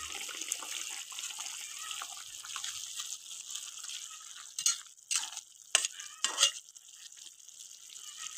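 Already-fried fish pieces go into a pan, a faint low sizzle with soft stirring, then several louder scrapes and clatters of a spatula against the pan later on.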